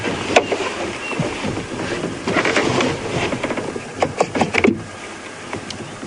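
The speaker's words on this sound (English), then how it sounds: "So let the engine run so they get used to it." A safari vehicle engine idles at Djuma Game Reserve, a steady rumbling drone close by with scattered knocks and rattles over it and no talk.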